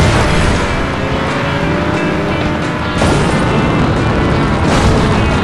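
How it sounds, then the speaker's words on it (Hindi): A bomb explodes during a Beach Buggy Racing 2 game: loud, sustained rumbling booms over continuous roaring game noise, with a sharper burst partway through and no speech. "अरे इसने बम मेरे ही लगा दिया है क्या"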